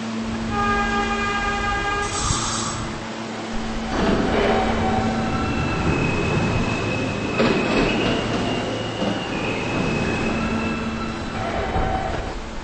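A New York N local subway train runs with a loud, continuous rumble and rattle, punctuated by high squealing wheel tones and whining, sustained throughout with no speech.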